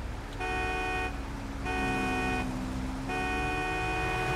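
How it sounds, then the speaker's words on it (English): A car horn honks three times in a GTA 5 roleplay lawnmower race, each a sustained, loud, steady toot of about a second with short gaps, over a low engine rumble. "once the third honk begins"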